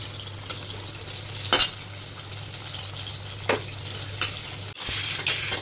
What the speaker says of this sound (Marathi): बटाटे पण आता फ्राय करते हलके फुलके